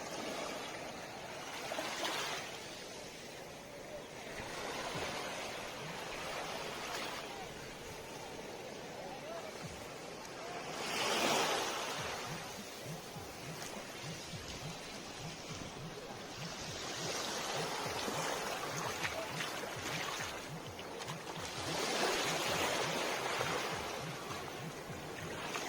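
Sea waves at high tide on Dingalan beach roll in as a steady wash of surf, with several louder breaking swells rising every few seconds over a constant background rush.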